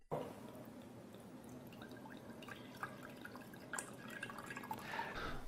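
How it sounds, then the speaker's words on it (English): Water, distilled or mineral, poured into a container beside a small shot glass, faint trickling and dripping with a few brief splashes, quiet and close. "So we put water."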